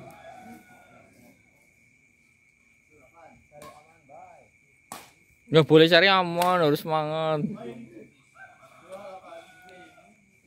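A rooster crows loudly and close by, one long wavering call in the middle, during outdoor rain. Someone talks before and after the crow, and insects chirp steadily in the background.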